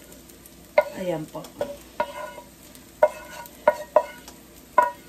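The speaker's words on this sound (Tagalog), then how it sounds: "Ilalagay ko na po siya sa fried rice." Drained ground beef is stirred into fried rice in a hot pan, with repeated sharp scraping strokes of the spatula over a steady sizzle while someone talks briefly.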